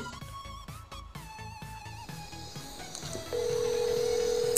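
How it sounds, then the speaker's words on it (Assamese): An electronic phone ringtone plays a short repeating melody, then gives way to a steady, sustained tone. "এয়া চাওক মোলৈ ফোন আহি গ'ল"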